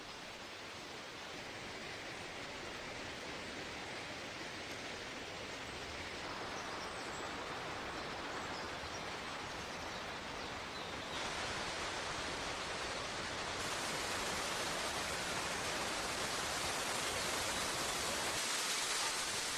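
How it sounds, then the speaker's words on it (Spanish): Croatia's highest waterfall, a 78-metre drop into a rocky white-walled canyon, gives a steady, dense roar of rushing water that stays broad and constant, growing slightly louder toward the end, with no voices. "la cascada más alta de Croacia,"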